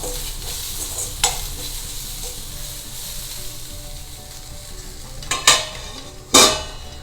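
Onions sizzle in a pan with salt as a utensil stirs them, a low steady frying hiss broken by a few sharp metallic scrapes and clinks against the pan, the loudest coming near the end.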